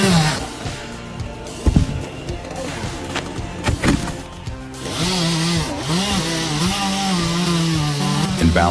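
Big chainsaw cutting into a tree during tree felling, the motor revving loudly and bogging as the chain bites, with woody cracks and knocks, then a steady high-revving drone.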